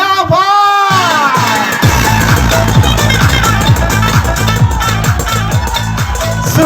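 A loud crowd at a political rally cheering and shouting over booming rhythmic music, with a swell of whoops after a brief opening tone.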